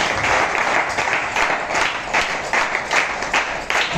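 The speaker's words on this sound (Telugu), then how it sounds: "ఒకసారి గట్టిగా చప్పట్లు కొట్టండి." A church congregation claps loudly together, a dense burst of rhythmic hand-clapping and applause that fills the room for several seconds.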